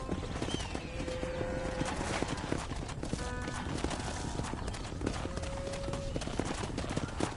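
Horse hooves clip-clopping steadily in a Red Dead Redemption ranch scene, with a short neigh partway through and faint voices and game sounds mixed in.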